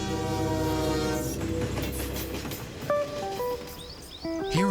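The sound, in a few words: experimental low-friction train in Germany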